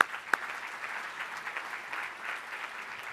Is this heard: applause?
yes